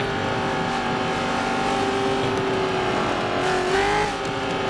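A race car in a driving video game hums and revs steadily with a sustained engine tone, shifting pitch briefly near the end, close and continuous with no talk over it.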